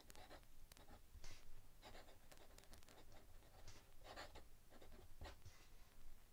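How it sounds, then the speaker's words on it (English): Muji fountain pen with a cursive italic ground nib scratching across paper in a quick writing sample, a soft close patter of strokes and short scrapes, light and continuous with no voices. "I'll just do a little quick writing sample"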